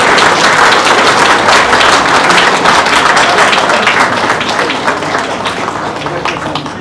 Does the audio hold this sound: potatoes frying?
no